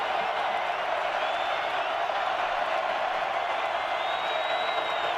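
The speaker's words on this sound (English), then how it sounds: "trying to get through the crowd noise" A college football stadium crowd at an FCS championship playoff game roars as a dense, constant wash of cheering and whooping, loud and unbroken throughout.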